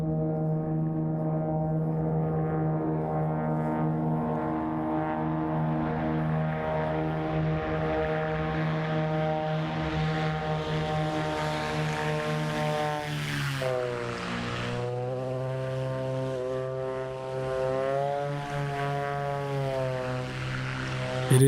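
A Black Square Grand Duke twin-propeller aircraft drones loudly and continuously in Microsoft Flight Simulator 2024, its engine tone holding steady, then dipping and rising in pitch midway through.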